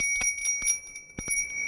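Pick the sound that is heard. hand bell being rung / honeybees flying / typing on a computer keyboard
hand bell being rung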